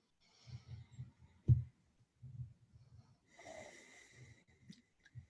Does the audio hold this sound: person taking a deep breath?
yes